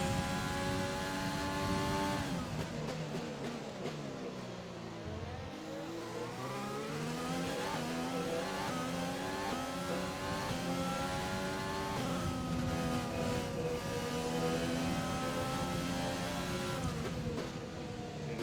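An F1 race car engine in F1 2020 at the Chinese Grand Prix screams steadily and loudly through repeated gear changes. Its pitch drops under braking, then climbs again as the car accelerates, with no talk over it.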